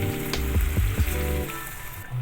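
Hot water poured into frying chicken masala with pumpkin sets off a loud, steady sizzle, with a few sharp bubbling pops near the start before the hiss settles.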